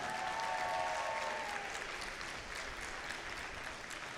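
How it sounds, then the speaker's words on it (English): Audience applause at a robotics district competition event, a broad sustained wash of many hands clapping that gradually fades slightly, with no talk over it. "And continue that applause for our biggest sponsor, Haas, and to all our other donors"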